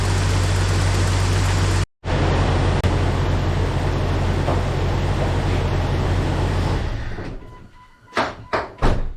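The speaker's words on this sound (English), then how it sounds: "Idle's really nice." A $200 Jeep Cherokee XJ idles with a steady low rumble, interrupted by a brief cutout, then fades as a few sharp thunks close it out.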